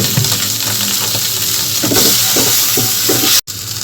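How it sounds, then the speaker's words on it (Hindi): Boiled potatoes fry in hot mustard oil seasoned with turmeric and salt, a steady loud sizzle with occasional stirring scrapes, close up, no talking, briefly cut to silence near the end. "तेल गरम हो गए हैं। अब मैं इसमें उबले हुए आलू डाल दूंगी।"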